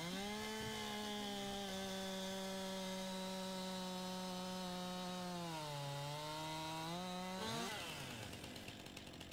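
Chainsaw in Farming Simulator 19 felling a tree, a loud droning buzz with steady pitch that dips briefly under load, then revs up and cuts off near the end.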